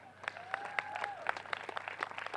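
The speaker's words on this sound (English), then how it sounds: "round of applause for Morong" A small crowd at an under-18 football grand final gives the winning team a short round of applause, scattered uneven claps with a few voices calling out, swelling louder right at the end.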